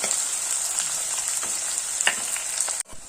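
Shallots and garlic frying in oil for a chilli curry, a bright continuous sizzle with a few stirring scrapes, cutting off abruptly just before the end.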